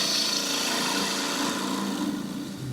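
A gouge cuts across the end grain of a small wooden button foot spinning on a wood lathe, a steady close rasping hiss with the lathe's hum underneath, continuous and unbroken.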